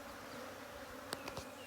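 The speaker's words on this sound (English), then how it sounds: "you notice the behavior of the bees has changed a little bit? They're a little bit noisier." Honeybees buzz on a hive frame during a beekeeping class, a faint, steady drone close by, with a few brief clicks or taps near the end and no talk.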